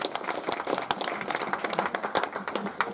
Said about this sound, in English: Can we have a round of applause for Lowell, please?